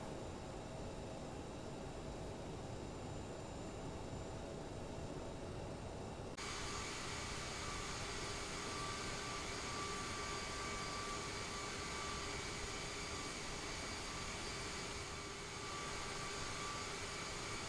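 Bombardier CRJ-550/700 jet engines idle while taxiing in Microsoft Flight Simulator, a steady broadband whine and rumble that stays even throughout, with a slight rise in brightness partway through and no talking.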